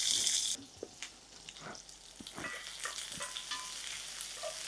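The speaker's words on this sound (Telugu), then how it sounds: "పోపులో ఒక 1 టీ స్పూన్ జీలకర్ర వేస్తున్నా. Medium size onions 2." Cumin seeds and onions fry in hot tempering oil with a soft, continuous sizzle, broken by scattered clicks and scrapes of stirring; fairly quiet overall.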